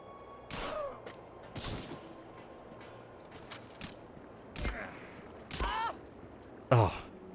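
Gunfire in the video game Medal of Honor: Frontline, a handful of sharp isolated shots spread out over several seconds, moderately loud over a low background hum.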